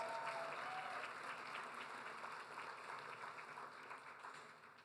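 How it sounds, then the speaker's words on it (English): An audience at a suburban diversity celebration claps for a newly appointed university president, with steady, fairly soft applause from many hands that gradually fades toward the end. "I think that deserves a round of applause"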